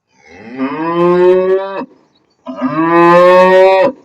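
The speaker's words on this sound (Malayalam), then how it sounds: "ഇതൊരു പൂരി അഥവാ കാള" Two long, loud moos from a bull close by on a farm in Oman, separated by a brief pause.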